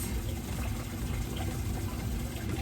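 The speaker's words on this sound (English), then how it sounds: "Then I'm gonna run a little water in the bowl." Tap water running into a bowl of apples, a steady close gushing stream with a full, even rush that carries on without a break and without talk.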